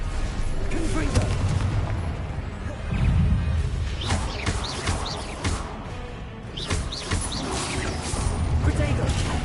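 Confringo explosive spells are cast during Hogwarts Legacy combat, giving several loud booming blasts and crashes spread through a noisy fight, with talk heard in between.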